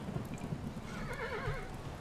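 In the video game Kingdom New Lands, a horse lets out a short wavering whinny over soft rumbling background noise and faint hoof sounds, moderately loud, with no talking.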